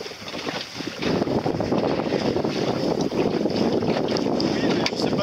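A sailboat tacks off the Côte d'Armor coast in Brittany, with loud wind buffeting the microphone and a rushing, steady roar of moving water and hull, voices speaking faintly underneath.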